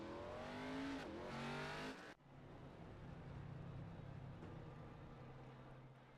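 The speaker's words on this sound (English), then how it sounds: "Able to get it cranked back up and get it back rolling." A stock race car in an ARCA series event at Richmond cranks back up after stalling on track: a loud engine roar that cuts off abruptly, then a steady, lower rumbling drone continuing with track noise.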